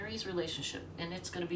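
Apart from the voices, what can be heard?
None of the usual background noises is heard.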